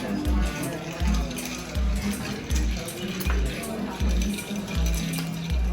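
Ice stirred in an Old Fashioned cocktail glass, a steady rhythmic clinking that repeats about once a second, close and moderately loud.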